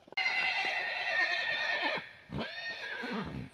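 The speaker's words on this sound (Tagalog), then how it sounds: "alaga nga po pala nila mama yung maingay na kabayo" A farm horse gives a loud, close neigh lasting about two seconds, followed by a shorter second whinny. Faint hoof clops sound underneath.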